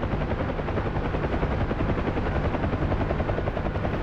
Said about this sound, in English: This is the only way to fly helicopters